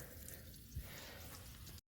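Water rushing out of the fresh water low point drain of a vintage Gulf Stream camper during winterization, a steady close splashing gush that stops abruptly.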